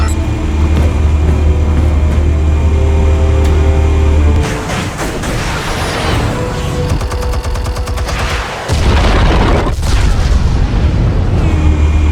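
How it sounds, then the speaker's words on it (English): Explosives detonating in Batman: The Telltale Series, with loud booming blasts and rapid crackling bursts like gunfire, a heavy rumbling bed, and a sudden dip then renewed roar. "Explosives armed. Fire when ready."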